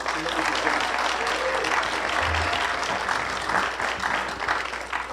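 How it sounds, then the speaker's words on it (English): Audience applause for three next-generation Tuskegee pilots at a post-screening discussion, a steady dense clapping from a sizable crowd that holds evenly for about five seconds with faint voices mixed in. "can we get a round of applause for them today?"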